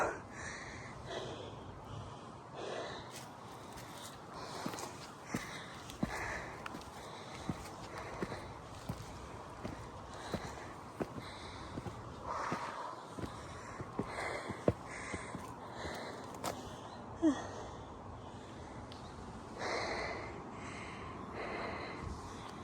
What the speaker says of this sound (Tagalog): Hinihingal ako.